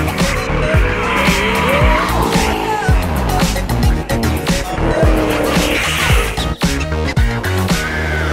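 Cars drift on a BMW M track day, with loud, sustained tire squeal and skidding over roaring engines, the revs rising and falling repeatedly throughout.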